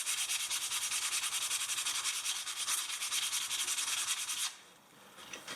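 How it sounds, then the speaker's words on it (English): Sandpaper rubbed by hand over wood for a rustic finish gives a rhythmic, close, raspy scratching in quick back-and-forth strokes, stopping near the end. "Grab my sandpaper again."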